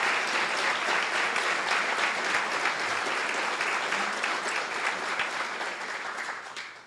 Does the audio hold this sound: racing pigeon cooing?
no